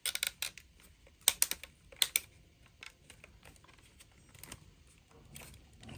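Plastic parts of a PlayStation Portal case snapping together, a run of sharp, close clicks and taps, clustered irregularly with quiet gaps, fairly faint and with no talking.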